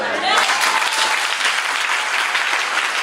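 A church congregation claps loudly and steadily during a sermon, a dense wash of applause from a large crowd filling the whole moment without a break.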